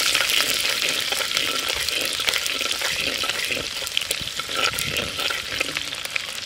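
Onion and tomato sizzle and fry steadily in a pan as the base for a Tamil-style fish curry, a continuous close hiss with occasional faint stirring scrapes and no talking.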